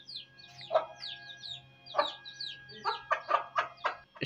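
A hen clucking close by, a run of short, abrupt clucks in quick succession growing more rapid toward the end, over a faint steady hum.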